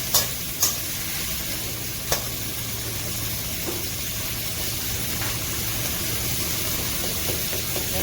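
Finely chopped onions sauté in a pan for chicken macaroni and give off a steady, close sizzle. A spoon stirs them with a few sharp clinks and scrapes against the pan.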